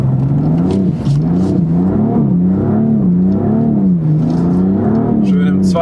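A BMW M4 drifts on a wet race track at Bilster Berg, its engine droning and rising and falling steadily in pitch with a loud, close whirring roar and faint tyre noise throughout.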